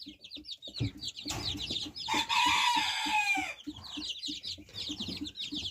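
A group of young chickens cluck and peep close by in a farmyard. A louder, longer call rises briefly in the middle, with soft, rhythmic pecking and cheeping around it.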